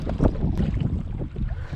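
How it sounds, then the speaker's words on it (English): Strong wind buffets the microphone on an oyster island during inshore fishing near Charleston, SC, a steady rough roar with gusty bursts and no talking. "It's very windy."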